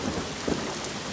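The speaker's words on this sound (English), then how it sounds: "It's raining hard." Heavy rain pours during a thunderstorm with thunder, a thick, steady roar of rain with low rumbling underneath, fairly faint overall and uninterrupted by speech for the brief moment.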